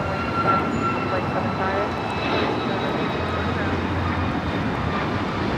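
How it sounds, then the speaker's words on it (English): An American Airlines Boeing 737 MAX 8 taking off from Los Angeles for Miami makes a steady jet engine roar at moderate distance, with a voice talking over it. "This is American Airlines 658 taking off to Miami on the MAX 8."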